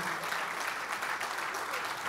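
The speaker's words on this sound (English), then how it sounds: "Please, a round of applause as loud as you can." An audience at a formal event applauds Abike Dabiri-Erewa with a brief, steady wash of clapping that sounds fairly distant and even.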